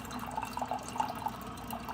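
Joydeem YSJ-B350 instant hot water dispenser pouring 185°F water into a glass: steady, close trickling stream with light bubbling and splashing, no talk.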